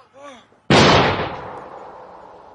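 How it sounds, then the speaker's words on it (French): A sudden loud cartoon explosion of a giant red-and-white mushroom bursts after a brief voice, then rumbles and decays over a couple of seconds. "Quelle explosion!"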